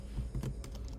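Quick, light keystrokes on a computer keyboard while code is entered, a brief burst of close clicking taps with no talking.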